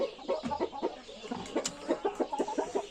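A pet rooster clucks repeatedly in short, rhythmic bursts at close range in a farmyard, with no talk over it.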